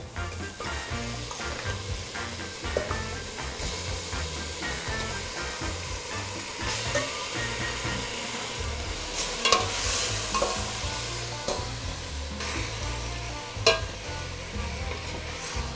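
Chicken sizzles and crackles in a hot pan while a utensil scrapes and stirs, steady stir-frying noise with occasional louder clatters.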